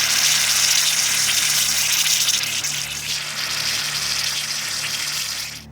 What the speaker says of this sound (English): When the pressure on the gas in this fizzy water is released, its volume increases, and out it rushes.